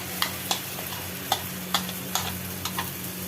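Yogurt goes into a pan of frying masala for potato 65 gravy, giving a continuous close sizzle broken by a handful of sharp spoon scrapes and taps as it is stirred.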